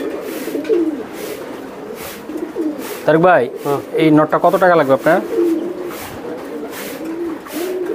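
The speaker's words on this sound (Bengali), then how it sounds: "অনেক শক্তিশালী কবুতর ভাই" Racer pigeons coo in several loud, close, rhythmic bursts mid-way, with softer cooing around them, while someone speaks over the birds.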